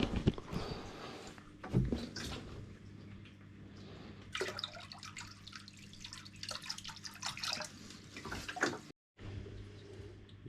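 RODI water is poured by hand into a bucket for weekly upkeep of a Waterbox Peninsula mini 15-gallon nano reef tank, a faint splashing, trickling stream with a few clunks, ending in a brief silence.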